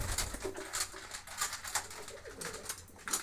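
White pigeons coo softly in a loft where several birds are brooding eggs, the low calls repeating in an uneven rhythm over light rustling and faint background noise.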